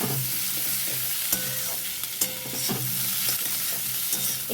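Boiled potatoes are stirred and fried with browned onions in a pan. A steady sizzle runs throughout, broken by sharp scrapes and clicks from the spatula, close up with no voices.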